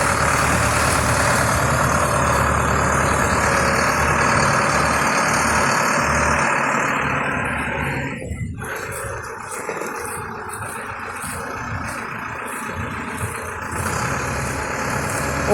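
A YTO NLX 1054 tractor engine runs at a steady, rumbling idle close by. The sound stays even and continuous, then eases slightly quieter partway through.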